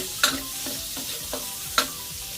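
Onions sizzle and fry in a pan as Thai fried rice is started, with a steady crackle under a few sharp scrapes and clacks of stirring.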